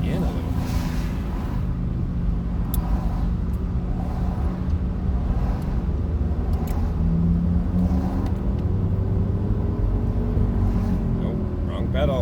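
A car engine in Maine runs steadily and loud throughout, its low rumble swelling slightly as the gas pedal is pushed down, with a rising tone near the end and a voice speaking over it.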